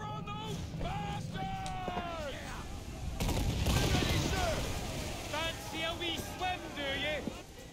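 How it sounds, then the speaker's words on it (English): Ship cannons firing in the naval combat of Assassin's Creed 4 Black Flag, a burst of heavy booming shots mid-clip under game music and shouted crew voices. "Fire! Uncork the cannons"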